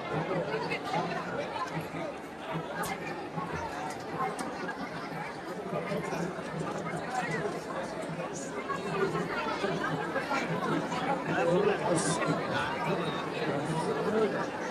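Dense crowd chatter fills the grounds of Ekvira temple on a Vasai to Lonavla trip, a steady, unbroken murmur of many voices close around, with the occasional louder call rising out of the babble.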